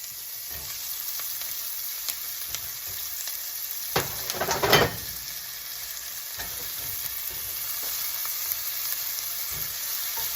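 Bacon and vegetables fry in a pan with a steady close sizzle, broken midway by a louder burst of spatter as the mix is stirred.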